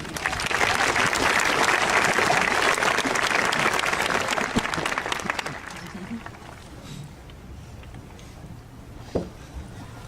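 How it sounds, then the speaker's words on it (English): Full applause from a commencement audience greeting the senior class president, dense and loud for about five seconds before fading into quiet room tone with a few stray sounds. "What a nice round of applause for Kristine"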